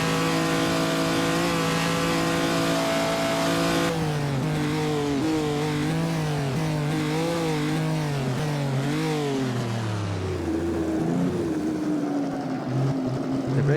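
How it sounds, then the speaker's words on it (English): A race car engine in Assetto Corsa drives a 1949 Noris-Ring Grand Prix race, loud and continuous, with a strong high rev followed by repeated rising and falling pitch sweeps as it shifts through gears, then the revs settle lower. "I'm not even waiting to the red light to shift gears just to make sure the engine"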